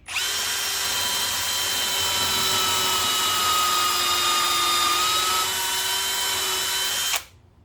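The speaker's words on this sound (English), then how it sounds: "once you start to touch the wood, start to drill and proceed." A power drill whines steadily at close range for several seconds, boring a pocket hole into wood with a Kreg 520PRO pocket hole jig, then stops abruptly.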